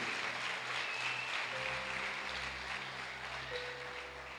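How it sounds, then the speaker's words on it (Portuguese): A church congregation applauds during a sermon, a steady low wash of clapping heard faintly over a humming room background. "Vou dar uma salva de palmas para Jesus"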